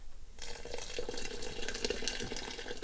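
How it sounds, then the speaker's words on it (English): Water pours steadily from a tap into a pot of Persian ash reshte, a four-bean noodle soup, a continuous close splashing rush that starts after a brief quiet moment and runs to the end. "I think I might need to add a little bit more water"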